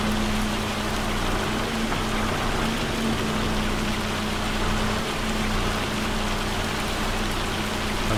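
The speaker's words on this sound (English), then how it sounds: "This is not rain. This is hail." Hail pelting down in Farming Simulator 25: a dense, constant hiss of pattering ice on surfaces, steady and loud throughout, with a low engine-like hum underneath.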